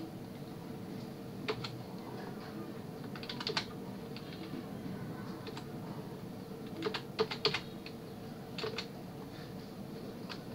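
A date of birth is typed on a computer keyboard while filling in an online passport application form. Soft keystrokes arrive in short irregular bursts and single taps over a steady low room hum, with no talk.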